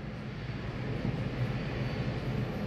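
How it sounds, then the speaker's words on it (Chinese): An ATR 72-600 propeller airliner at Taipei Songshan Airport, pushing back before a flight to Matsu Nangan, gives off a steady, moderately loud low engine drone and rumble with no voices. "那个螺旋桨客机"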